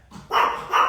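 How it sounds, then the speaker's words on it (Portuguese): A dog at home barks twice in quick succession, loud and close, with no voices around it. "É esse aqui que tá latindo."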